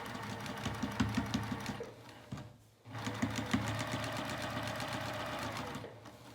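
A sewing machine stitches pajama pants in rapid bursts, its motor whirring with a rhythmic mechanical clatter, stopping briefly midway before running again.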